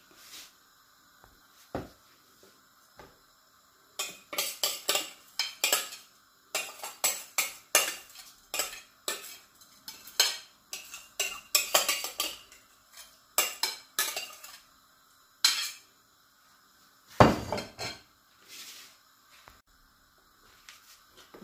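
A spoon stirs rice, beans and coconut milk in a pot, making repeated close scraping and clinking strokes in irregular bursts with brief pauses, one sharper knock near the end.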